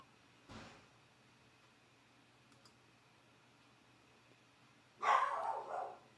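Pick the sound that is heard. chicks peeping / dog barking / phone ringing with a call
dog barking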